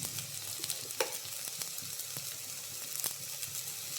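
Onion sautéing in a pan for a quick beef dish, a soft steady sizzle with scattered sharper clicks and scrapes from stirring, fairly close and quiet with no voices.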